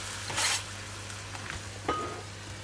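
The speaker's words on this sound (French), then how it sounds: "Je vais mettre mes oignons," Onions going into a hot pan already deglazed with white wine, giving a burst of sizzling and stirring, then a softer second hiss, with a steady background hum and no talking.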